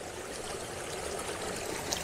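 Water rushes and gurgles steadily over rocks in a small cascade, a constant soft splashing wash with no voices.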